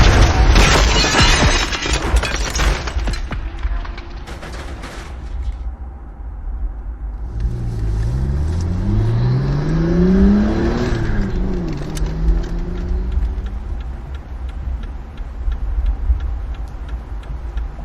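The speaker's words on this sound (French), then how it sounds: "Tout à coup, la voiture se met à leur niveau et les percute par le côté," A car draws level with another and rams it from the side, driving it into a tree: a rising, sweeping engine roar climbs and falls mid-clip over a steady low rumble, with earlier clattering impacts, close and loud throughout.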